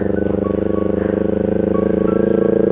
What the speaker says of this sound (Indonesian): kayaknya ini ada suara motor deh